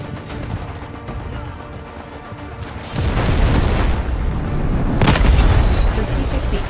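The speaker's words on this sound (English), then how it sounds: "Cruise missiles inbound. Targets will be neutralized." Cruise missile strike in Delta Force, heard as a steady low rumble that swells into louder, heavier explosions midway and peaks with a sharp blast near the end, loud and close, with no speech.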